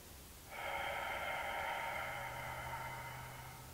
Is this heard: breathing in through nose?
yes